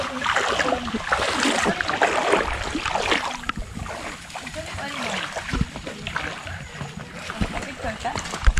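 Water splashes and churns repeatedly at close range in the sea off Leyte, with voices talking and calling out over the sloshing sea.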